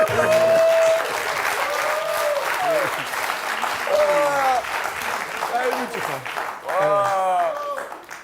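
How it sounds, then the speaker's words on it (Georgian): Sustained applause and cheering fills a comedy contest studio, a broad crowd clapping throughout while voices talk and exclaim loudly over it. "აი, აპლოდისმენტები."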